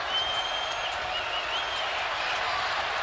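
A college basketball crowd at West Virginia roars and applauds in a packed arena, a broad, sustained wash of cheering and clapping with a few whistles cutting through, heard at a distance and staying level throughout.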